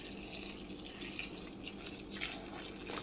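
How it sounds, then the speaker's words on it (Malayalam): Hot water poured into a pressure cooker pot for drumstick-leaf soup, a steady close splashing, gurgling stream running the whole time with no voices. "ഇനി ഇതിലേക്ക് ചൂടുവെള്ളം ഒഴിച്ച് കൊടുക്കുന്നുണ്ട്."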